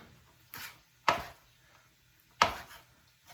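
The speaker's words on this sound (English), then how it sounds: "we want to julienne cut some fresh basil here" Fresh basil being julienne cut with a knife on a cutting board, three separate sharp chops spaced apart, close and fairly quiet with no talk.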